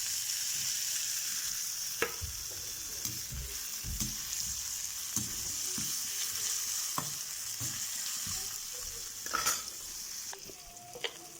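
Chopped tomato fries in a tempering of turmeric and asafoetida, with a constant close sizzle broken by repeated spoon knocks and scrapes against the pan. No voices are heard.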